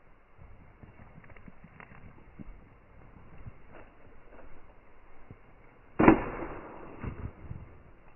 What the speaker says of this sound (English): let's go ahead and toss it and put our 5 rounds down.